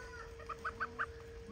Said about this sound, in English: Goslings!